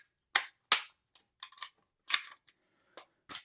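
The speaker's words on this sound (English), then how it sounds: "So I'll take the slide off and show you" Slide comes off a Glock G37 pistol in .45 GAP with a series of sharp metallic clicks and snaps, two loud close ones at the start followed by quieter scattered clicks.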